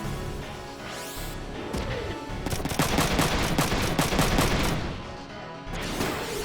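Gunfire in a shooter video game, rattling out in dense, rapid bursts that build up and hold loud through the middle before easing off, with sharp impacts scattered among the shots.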